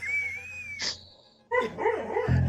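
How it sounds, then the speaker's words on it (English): A sleeping dog dreaming lets out a muffled whistling whine and then a short run of soft, wavering yips and barks, close by and alone with no talk. "My dog's dreaming over here, so if you hear a dog yelping or barking"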